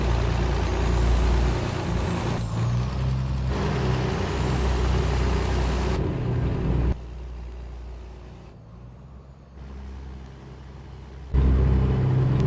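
A heavy truck hauling an excavator in American Truck Simulator drones with a loud, constant low engine rumble, a rising whine and a sharp hiss of air brakes, dropping quieter midway before surging back.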